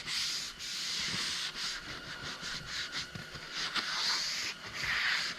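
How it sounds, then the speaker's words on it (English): A cloth wipes window cleaner across a shiny Husky tool box from Home Depot, making close, steady rubbing and hissing strokes with a few brief pauses; no talk. "Just a little bit of window cleaner, and you can wipe everything right off."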